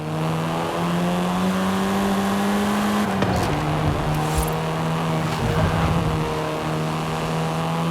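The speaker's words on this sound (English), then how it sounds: "This version is the Volkswagen Golf R, R meaning race." A 7th-generation Volkswagen Golf R races in Forza Horizon 5, its engine holding a steady, close droning note that swells with revs a few times midway, with a brief tire squeal. No one speaks.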